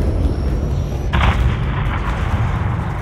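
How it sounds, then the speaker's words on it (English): A missile strike slams into a hangar in Call of Duty: Modern Warfare 3 (2023), a sudden loud blast erupting about a second in and rolling into a sustained, rumbling roar of debris and fire that carries on to the end. "have your man drop a missile on that hangar"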